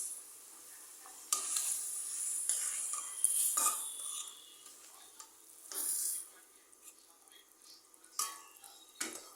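A pangas fish head sizzling in a pan, a quiet continuous hiss with intermittent stirring scrapes and clinks of a utensil against the metal, close and low in level.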